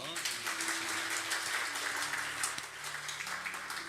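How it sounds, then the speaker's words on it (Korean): A church congregation applauds during a Sunday worship service, a soft, moderately distant patter of clapping sustained over four seconds, with low sustained keyboard tones beneath it. "우리 송윤혜 자매님께 큰 박수로 한번"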